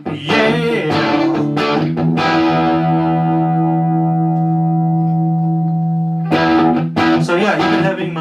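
Spark 40 amp cranked loud with gain distortion, playing chords then a long sustained ringing chord that slowly decays before renewed strumming, heavy and saturated with some effects.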